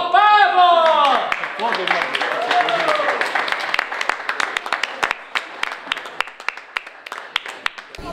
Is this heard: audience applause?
yes